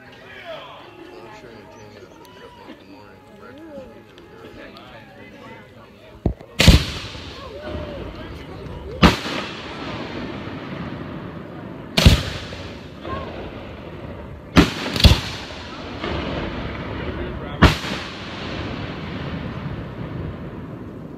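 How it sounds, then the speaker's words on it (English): Mid-size fireworks shells, around five or six inches, burst in a fireworks display, giving five sharp loud booms at irregular intervals over a steady crowd murmur and background noise, with people chatting throughout. "Not a finale, but a mid firework something."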